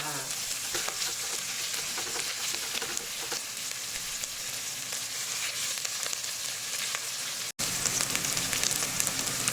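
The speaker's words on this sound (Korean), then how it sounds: "양파를 볶으면서 약간 이렇게 노릇노릇하게 색이 올라오면" Onions for a home-style curry stir-fried in a pan, a constant close sizzle with scattered crackles and occasional stirring, one brief drop-out near the end, no speech.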